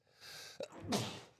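A single quick sneeze bursts out during a live trading-card break stream, short and fairly soft, preceded by a brief intake of breath against quiet room noise.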